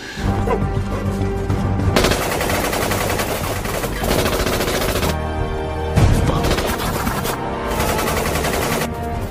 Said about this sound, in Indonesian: Tembakan memicu baku tembak besar.